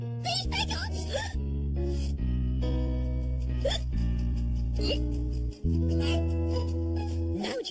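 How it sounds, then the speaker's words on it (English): A cartoon boy in a classroom hiccups repeatedly amid animated background music, the sharp little gulps coming every second or so. "I've got to get rid of these hiccups."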